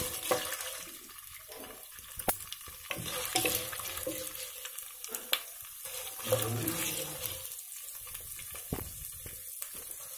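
Tempering spices fry in hot oil for semiya lemon pulihora, making a continuous close sizzle and crackle with occasional stirring sounds and a few sharp pops.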